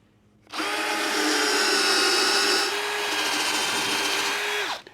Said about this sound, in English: I'm only drilling through the face plate